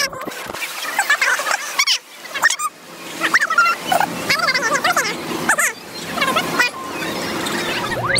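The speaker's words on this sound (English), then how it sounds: "It's a flamingo." Loud, honking bird calls at SeaWorld, attributed to a flamingo, come in repeated bursts and squawks over a steady crowded background with faint voices nearby.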